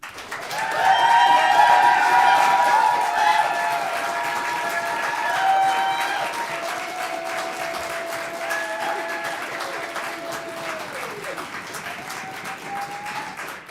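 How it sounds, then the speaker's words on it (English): An audience at the Alaska Poetry Out Loud state competition gives the contestants a loud, sustained round of applause, many hands clapping together. Some cheering rises over it, and the clapping gradually eases off over several seconds. "So when we give this round of applause, I want it to be the loudest of the night for all of these contestants one more time."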